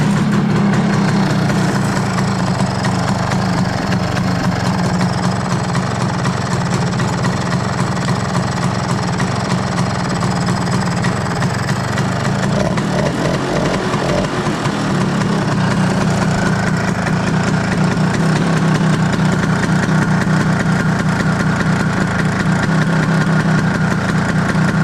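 A Stella scooter engine, freshly rebuilt with choke out and fuel on, runs at a steady, loud idle throughout, a continuous low putter with a slight shift in tone near the middle and no talking.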